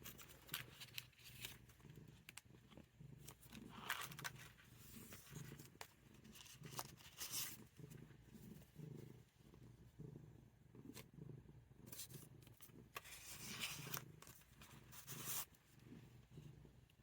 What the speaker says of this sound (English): And that is Sundae, if you can hear her purring in the background.